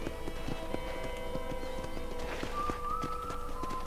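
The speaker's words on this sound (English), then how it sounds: "I picked out a fine horse for you." Horse hooves clip-clopping in a steady rhythm with a brief whinny, from the Red Dead Redemption video game, set against continuous game ambience and music.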